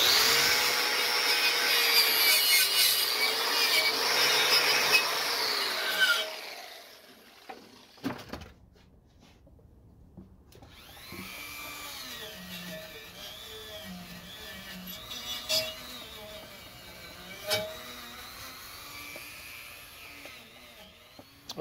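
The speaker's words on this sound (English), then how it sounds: "I'll come back and do some more grinding" A power grinder works metal on a casting flask, a loud continuous whining grind for several seconds that then stops, followed by quieter scraping, clanks and handling noises.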